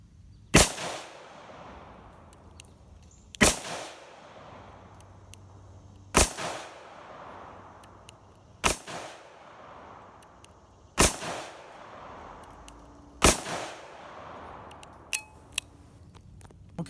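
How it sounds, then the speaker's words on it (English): Six sharp, loud revolver reports from a Smith & Wesson Model 19 firing full-power .357 Magnum rounds double action at about ten yards, evenly spaced roughly every two and a half seconds, each with a short ringing tail and no talking. "We're going to do a little bit of double action shooting."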